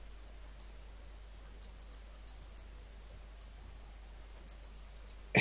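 A computer mouse clicked repeatedly, crisp small clicks in irregular bursts, some in quick pairs, close and distinct over a faint steady hum with no talking.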